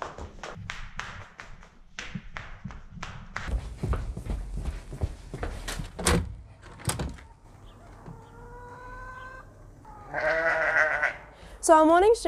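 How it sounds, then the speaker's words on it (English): Sheep bleating at a morning feeding in the French Alps, several wavering bleats near the end after a stretch of clattering taps and knocks, with moderate loudness and a voice present. "that is the feeding of the sheep and the chickens"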